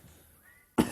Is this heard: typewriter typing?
no